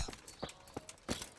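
Hoofbeats of a horse in the medieval game Kingdom Come Deliverance: four separate clip-clop thuds spread irregularly over a second and a half, moderately close, with no talk.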